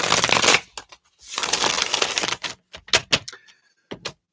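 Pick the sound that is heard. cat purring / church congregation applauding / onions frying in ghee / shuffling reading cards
shuffling reading cards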